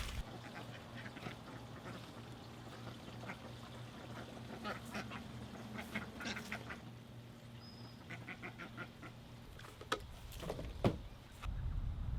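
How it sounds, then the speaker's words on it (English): Ducks quack in short scattered calls over a steady low hum, with a louder burst of sound near the end. "I'm glad we got the ducks too."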